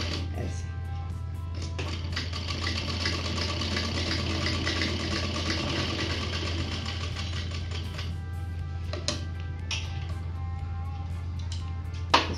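A sewing machine stitching suit fabric, a steady low motor hum with a fast running rhythm held for several seconds, with a few brief clicks and a sharp knock at the end.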